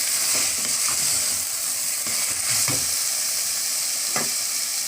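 Masala with mint and coriander leaves frying for mushroom biryani, stirred in a pan, a steady sizzle with occasional scraping clinks of the spoon, close and continuous without talk.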